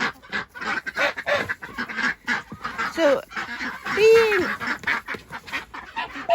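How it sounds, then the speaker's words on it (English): Ducks and geese in a flock housed in a poultry tunnel quack and honk noisily while courting, with loud honks standing out mid-clip, mixed with a person talking over the ruckus. "Ducks are busy courting each other. That's what all that ruckus is."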